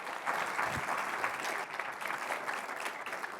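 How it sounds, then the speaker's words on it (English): A room full of people applauds at a film and panel discussion program, steady dense clapping throughout, moderately loud and even, with no talking over it. "huge round of applause"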